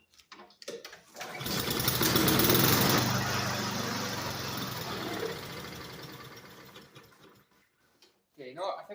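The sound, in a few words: Honda Harmony lawn mower engine running and shutting off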